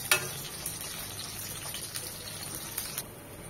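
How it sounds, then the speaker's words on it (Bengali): Large chunks of onion frying in a pan for red lentil khichdi, a steady, moderate hiss and sizzle with faint crackles and an occasional soft stir, no voices. "ভেজে নেওয়ার পর দিয়ে দিব দুটো বড় বড় পেঁয়াজ"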